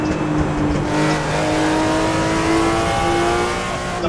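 Porsche 935 race car in Assetto Corsa, its engine droning loud and steady at high revs with a slight pitch drift over a few seconds, alone with no talk.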